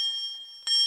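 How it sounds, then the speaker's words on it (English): A single electric bell rings with a steady, sustained metallic tone, quiet at first and then suddenly louder near the end as the ringing intensifies, with no voices. "Today we shall learn how an electric bell works."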